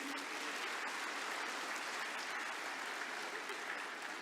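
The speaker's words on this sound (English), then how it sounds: "Can we have a round of applause," Steady, dense applause from a large audience fills a conclave hall during a plenary session, sounding continuous and fairly distant, with no voices over it.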